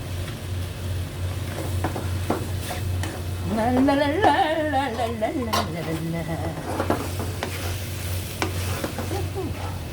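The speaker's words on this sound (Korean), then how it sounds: "이렇게 볶다 보면 요거 고기도 있고 여기 안에 있는 김치도 있고" Meat and kimchi stir-fry in a pan with a steady sizzle, a utensil scraping and clinking against the metal, and a voice rising briefly in the middle.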